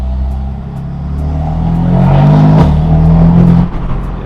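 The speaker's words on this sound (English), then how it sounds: "The tone is deep because the muffler's not been gutted, but then it's still got a bit of that kind of raspy," A straight-piped BMW M4 with its muffler left intact accelerates hard, its deep, raspy exhaust note swelling loud and close as the engine revs climb, then easing off at the end.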